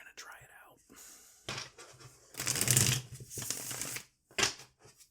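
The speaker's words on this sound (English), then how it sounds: "I also might normally shuffle before drawing each of the 10 cards" A tarot deck is shuffled close up in several papery riffling bursts of varying length, separated by brief pauses.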